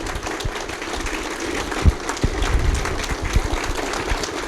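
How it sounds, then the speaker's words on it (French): An audience applauds Steve Cameron with a steady, dense patter of clapping from many hands, moderately loud and continuous, with a few sharper individual claps standing out and no talk over it. "on doit une bonne main d'applaudissement à Steve Cameron"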